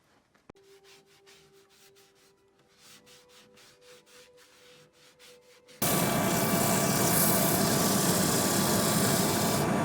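A power sander starts up loudly partway through, grinding steadily against end-grain wood on a woodturning piece after a few seconds of quieter background hum and rhythmic rubbing.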